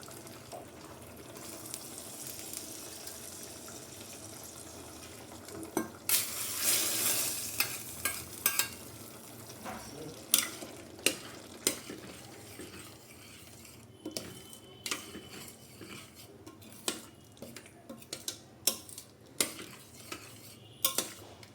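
A tempering of spices with asafoetida is stirred into a spinach masala curry in a pan: soft sizzling under a spoon scraping and clinking against the metal, with sharp irregular taps toward the end.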